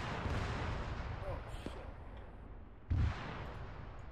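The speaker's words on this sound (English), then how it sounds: "those rockets, some of them fell short" Rocket impacts in the Arma 3 military game, a sustained rumbling barrage with a sharp, heavier blast near the three-second mark standing out over the dull background roar.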